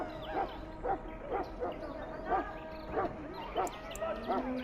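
A Mabari warhound in Dragon Age: Origins barks and yips repeatedly in a steady rhythm of short, moderately loud calls, roughly one every half second, over faint background ambience and music.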